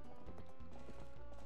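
Goat hooves clop in Zelda: Twilight Princess, a quick uneven run of soft thuds under a steady, fairly quiet game background.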